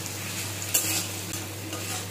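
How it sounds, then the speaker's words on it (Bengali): Cauliflower stalks being stirred and fried in a pan with salt and turmeric, a steady sizzle under a low hum with a few sharp scraping stirs of the utensil against the pan, no voices. "বেশ ভাজা ভাজা হয়ে গেছে, আর ভাজবো না।"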